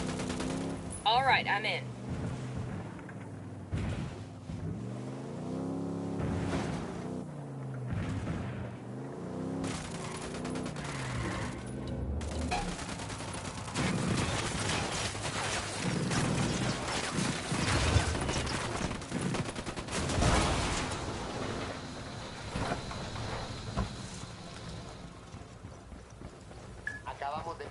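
Gunfire in Ghost Recon Wildlands: bursts of shots and a clatter of mechanical noise run under game music and voices, and a voice speaks briefly.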